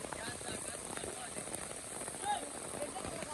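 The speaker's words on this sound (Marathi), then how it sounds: "पहिला पाऊस आहे." First monsoon rain falls steadily outdoors in a village setting, a dense, even patter with brief louder drops and faint voices in the background.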